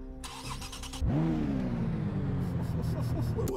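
Car engine in the video game Project Cars GO cranks and fires up, then settles into a loud revving idle with rising and falling engine tone, preceded by a brief burst of game sound.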